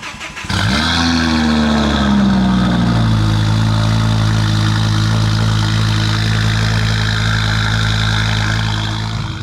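A Ford Focus ST five-cylinder engine cold-starts with a quick crank, flares to a loud rev, then settles into a steady, rumbling high idle. It is very close and loud and runs alone with no talking.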